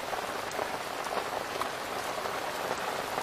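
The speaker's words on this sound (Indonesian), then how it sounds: "Giliran hujan, anginnya dari arah" Heavy rain pours steadily onto a fishing platform during a windy storm at sea, a dense, even wash of drops on surfaces with no pauses.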